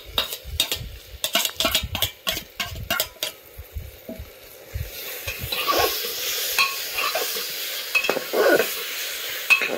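Garlic paste sizzling in a pan with onion and tomato, a spoon scraping and stirring in rapid strokes at first, then a steady close frying hiss with scattered pops and no talk.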